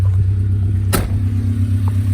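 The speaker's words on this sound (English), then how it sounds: "We're just going to let the truck idle for a little bit in the driveway and see where it sits." Nissan D21 pickup truck fitted with electric fans and an aluminum radiator idling in a driveway, a steady low engine hum with a brief sharp burst near the middle, loud and close.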